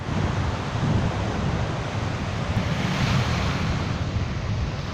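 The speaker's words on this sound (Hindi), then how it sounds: "आपको हवा का आवाज़ भी आ रहा होगा।" Strong wind gusting across the open water of the Alleppey backwaters during a boat ride, a continuous blustery rush with wave wash beneath, buffeting the microphone at fairly constant loudness.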